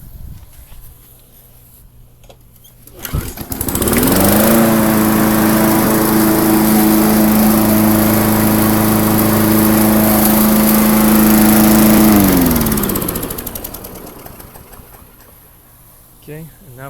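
A Briggs and Stratton lawnmower engine with a modified carburetor spring revs up to a steady, loud drone for about eight seconds, then winds down to a quieter idle.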